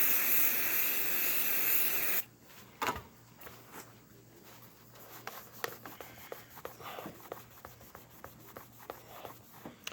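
A hairspray aerosol can sprays in a steady, loud hiss for about two seconds, followed by quiet rubbing and scratching sounds as permanent marker is rubbed off plastic.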